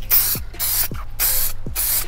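White base coat paint hisses from a spray can onto a valve cover in four short, even bursts, each followed by a brief pause, close and clear.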